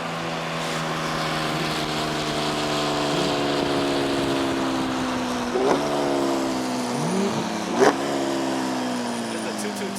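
A loud Audi R8 engine revs steadily, pitch rising gradually with a couple of sharp blips, close by and continuous throughout.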